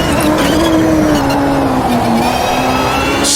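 Open-wheel IndyCar engine from 1995 at Long Beach in Automobilista 2, droning steadily at high revs while the car slides through corners, with a faint tyre hiss under the loud, continuous sustained engine note.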